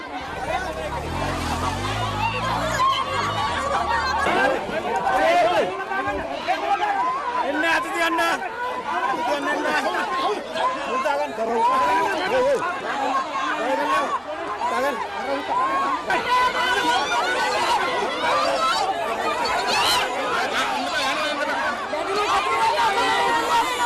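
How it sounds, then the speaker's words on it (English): Police dispersing a crowd of protesters on the Battaramulla–Pannipitiya main road, a dense, loud hubbub of shouting and chatter with running footsteps throughout, continuous and close. "Police then moved in to disperse the crowd."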